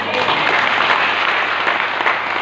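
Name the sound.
congregation applause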